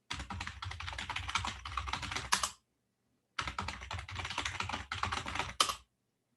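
Fast computer keyboard typing while a passphrase is entered, two dense bursts of rapid, close clicking with a short silent pause between them.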